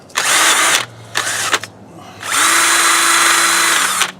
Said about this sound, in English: Just used a regular wire wheel on a drill.